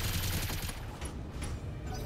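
Machine guns on a BattleTech mech firing in a video game, a dense, continuous rattle of rapid shots that stays loud and steady throughout with no pauses.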